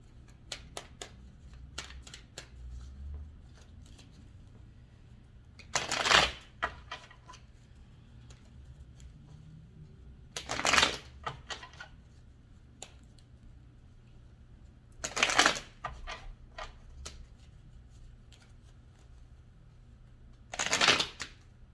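Rider-Waite tarot deck being shuffled by hand, four distinct bursts of riffling cards spaced a few seconds apart, close and crisp, with soft handling and tapping between them and no talk.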